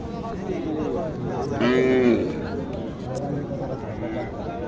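A cow moos once, loud and close, at a busy cattle market at Chakgouri haat near Naogaon, over steady crowd chatter and people talking nearby.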